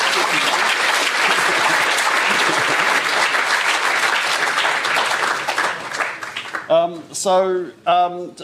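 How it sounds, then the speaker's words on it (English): Audience applause for Richard Fuller at an architecture lecture event, dense steady clapping for several seconds that fades out, followed by a speaker beginning to talk. "let's give Richard Fuller a little round of applause"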